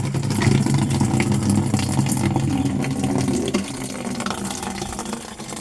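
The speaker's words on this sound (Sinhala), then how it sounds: "වතුර ටික පිරෙනවා" A tap runs hard into a flower bucket, a loud, continuous rushing gush with a low resonant tone that shifts slightly as the bucket fills.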